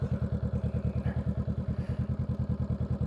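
A Honda Rebel 500 motorcycle engine runs close by with a rapid, even chugging pulse, a steady low throb that continues without a break and no voices over it.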